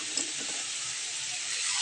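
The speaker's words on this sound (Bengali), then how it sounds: "তো জলটা দিয়ে দিলাম।" Water is poured into a curry cooking in a pan, making a steady broad hiss and gush that runs unbroken for under two seconds, close by, with no talking.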